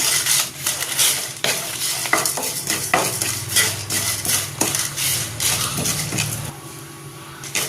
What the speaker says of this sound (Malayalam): നന്നായിട്ട് വറുത്ത് വയ്ക്കും